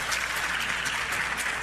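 Applause fills a legislative chamber, a steady, dense wash of many hands clapping with no break.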